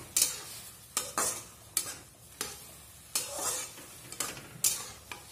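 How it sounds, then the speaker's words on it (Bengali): Bottle gourd pieces stir-fried with chili and cumin powder in a pan, a spatula scraping and tossing in repeated bursts of roughly a second each over a faint steady sizzle, close and moderately loud. "এভাবে 3 থেকে 4 মিনিট আমি ভালো মতন কষিয়ে নেব লাউটাকে"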